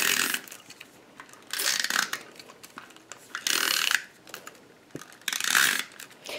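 A Stampin' Up Snail adhesive tape runner rolls across paper in short bursts, dry ratcheting clicks and scrapes close up, repeated about four times with quiet pauses between.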